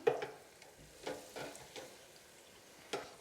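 Mushroom arancini balls with goats cheese frying in oil, heard as faint soft bubbling with several sharp little pops and ticks spaced irregularly, close and quiet, no voices.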